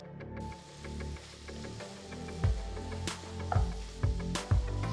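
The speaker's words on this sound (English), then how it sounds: "Cook the tomatoes till they're nice and mushy" Tomatoes simmer in a pan for a matar paneer gravy, a soft steady sizzle and bubbling with a few low thumps and scrapes of stirring, close and fairly quiet with no voices.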